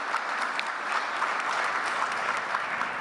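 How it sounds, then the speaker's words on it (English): Applause from a large audience at a leaders' summit on climate change, a steady, dense wash of clapping filling the whole stretch at even loudness with no voices over it. "give a big round of applause for the work they've done to bring us here"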